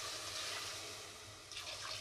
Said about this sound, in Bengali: এবার আমি দিয়ে দিলাম জল।